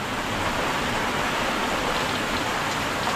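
Heavy rain pours down in a loud, unbroken hiss of drops drumming on surfaces, close and steady throughout with no talking.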